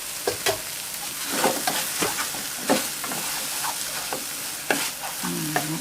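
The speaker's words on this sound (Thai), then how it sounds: "ผัดพอโหระพาสลดนะ" Enoki mushrooms with egg and basil stir-frying in a pan: steady close sizzling under repeated scraping strokes of a spatula, with a few sharper knocks.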